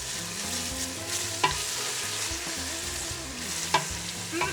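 Green beans with parsley and garlic get stirred in a hot pan for Ethiopian-style fasolia, a steady close sizzle and frying hiss with occasional scraping clinks of the spoon, and nobody speaks.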